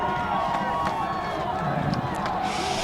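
Steady crowd noise in the stands at a high school football game between York Dukes and Oak Park-River Forest Huskies, a continuous murmur under a commentator's voice.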